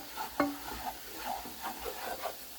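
Garlic parmesan wing sauce with chopped chives being stirred in a pan, soft scraping strokes over a low sizzle, repeated irregularly and close.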